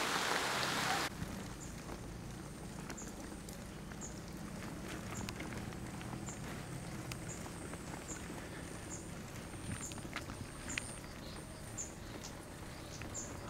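Steady rain falls outdoors in a faint, even patter with scattered drops ticking close by and a few small knocks, continuing without a break and with no voice.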